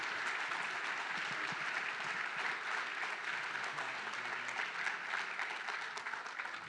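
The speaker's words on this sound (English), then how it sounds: "Ladies and gentlemen, round of applause." A lecture audience gives an author a round of applause after a talk on World War II special operations, a steady, full clapping that holds at an even level throughout.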